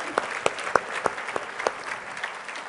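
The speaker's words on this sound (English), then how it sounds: "Let's have a round of applause." Sparse, distinct hand claps from an audience at a veterans awards ceremony, a handful of separate claps spaced out and fairly faint, with no voices.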